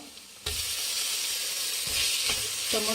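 Tomatoes frying in cooking oil in a pan for egg rice, a steady close sizzle and hiss that starts abruptly and runs continuously, with a few faint utensil clinks.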